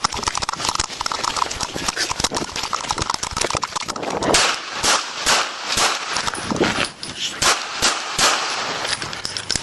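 Gunshots ring out in police body camera footage at an apartment complex, a rapid series of sharp, loud cracks in irregular bursts with rustling and movement between them.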